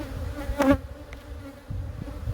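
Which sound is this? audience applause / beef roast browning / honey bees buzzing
honey bees buzzing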